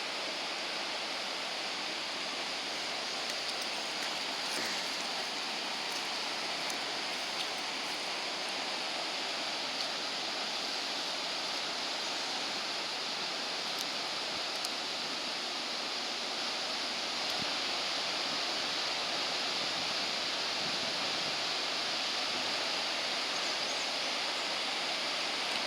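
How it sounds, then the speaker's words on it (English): Spring water wells up out of the ground at Big Spring State Park, a steady broadband rushing and gurgling that continues evenly throughout without pause. "Just bubbling up out of the ground."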